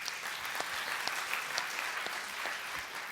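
A business breakfast audience claps in response to a show-of-hands question, moderately loud applause from a modest crowd with individual hand claps standing out in a fairly steady patter.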